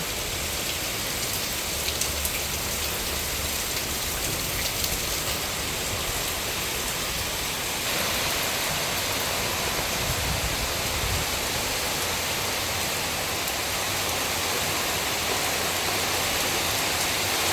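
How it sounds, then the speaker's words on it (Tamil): Steady, heavy rain pours down without pause, a dense hiss of water close by, with a slight shift in tone partway through. "நல்ல ஒரு மழை ஒன்று பெய்யுது"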